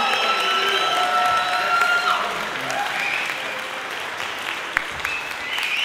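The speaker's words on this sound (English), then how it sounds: "Let's give another big round of applause to our symphonic band, our concert percussion group, our clarinet choir, and our wind ensemble." A large audience at a high school spring band concert claps continuously and warmly, with scattered cheers and a sharp whistle near the end.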